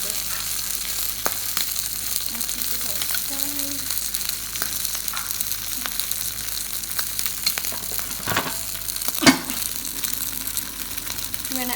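Potatoes fry in a hot pan alongside beef shin, a continuous close sizzle with scattered crackles, clicks and a brief knock of utensils, with faint voices in the background.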